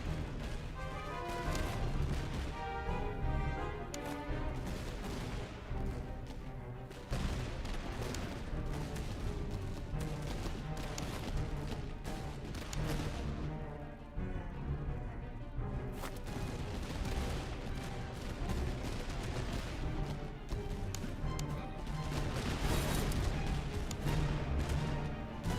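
Finnish Jaeger infantry trade continuous musket volleys in a Master of Command battle, a dense steady crackle of overlapping shots with distant booms under orchestral music.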